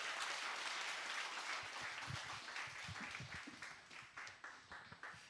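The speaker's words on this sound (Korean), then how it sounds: "큰 박수 부탁드리겠습니다" A church congregation applauds during a Sunday worship service, a dense wash of clapping that thins into scattered, separate claps toward the end.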